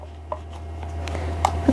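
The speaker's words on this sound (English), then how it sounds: "I'm going to trim the half square triangle units." Trimming quilt half square triangle units, with a few soft cutting clicks and scraping taps of the blade on the cutting surface, close and quiet over a low steady background hum.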